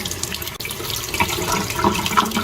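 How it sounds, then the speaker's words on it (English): Apples are rinsed under a running kitchen tap. The water gushes in a steady, close, fairly loud stream, with splashes shifting as the fruit moves under it. No one speaks. "So I'm gonna go ahead and rinse off my apples."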